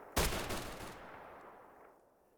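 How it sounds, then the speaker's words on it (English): A single loud AK rifle shot in the survival shooter Dead Air, a sharp close crack followed by a long echoing tail that fades out over about two seconds. "I shot him and he died."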